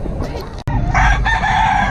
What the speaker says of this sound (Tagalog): Ang daming mga manok dito ngayon